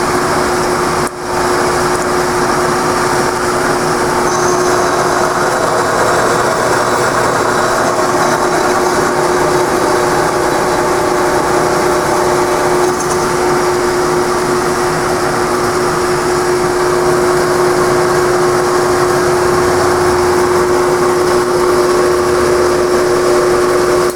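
A drill press boring through steel brackets for an aluminum utility trailer build, giving a steady, loud mechanical whine with a constant tone that runs unbroken throughout, with no talking.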